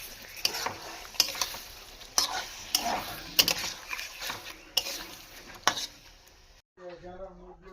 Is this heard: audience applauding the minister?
no